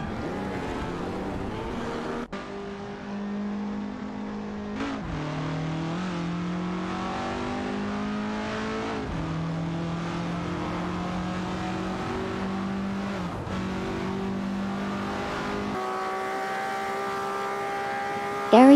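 Race cars from an AI racing video game howl through steady gear changes, engine pitch climbing and dropping in repeated upshift sweeps, loud and continuous throughout with a brief burst at the end.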